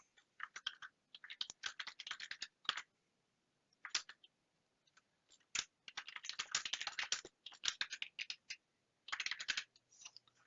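Fingers typing a short text entry on a computer keyboard in label-design software make quiet, close clusters of rapid key clicks, broken by short silent pauses.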